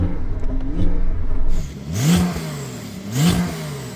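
A Porsche 911 Turbo S, tuned to 800 horsepower, revs twice nearby. Each sharp blip climbs quickly and then falls back toward idle.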